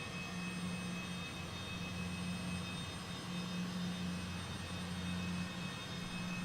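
Steady jet engine roar from an airplane idling before takeoff in Microsoft Flight Simulator, viewed from outside at Murfreesboro airport; a continuous loud drone with a pulsing low hum and no talk.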